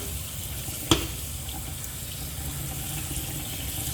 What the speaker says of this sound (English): you're just going to rinse off the beans